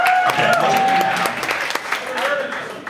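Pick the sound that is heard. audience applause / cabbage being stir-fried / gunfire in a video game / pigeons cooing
audience applause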